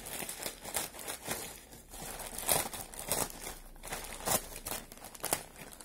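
White plastic shipping bag being cut open up close, with quiet crinkling and rustling plastic and several sharper snips and tears spread over a few seconds.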